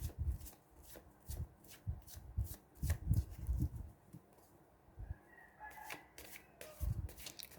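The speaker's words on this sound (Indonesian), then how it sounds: "Fokus pada kartu sambil saya baca doa dan saya kocok kartunya." Tarot cards being shuffled during a divine masculine reading, a series of soft papery riffles and slaps in an uneven rhythm, close and fairly quiet, with faint chicken clucks in the background and no talking.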